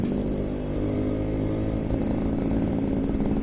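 An old 1989 Suzuki A100 motorcycle engine runs steadily at close range, a low chugging rumble that rises slightly toward the end.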